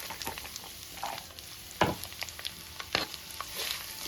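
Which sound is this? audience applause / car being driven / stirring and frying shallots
stirring and frying shallots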